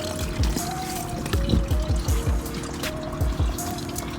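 Coolant pours and trickles from the radiator drain plug of a 2009 Honda Civic Si into a drip can, an uneven gurgling stream with soft splashes close by.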